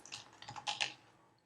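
Computer keyboard typing while writing code for a terminal transparency slider in an OS project, a quick close run of soft key clicks lasting about a second and then fading to quiet, with no talking.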